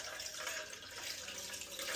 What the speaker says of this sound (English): And this is some cold water. I'm just gonna pour it over it.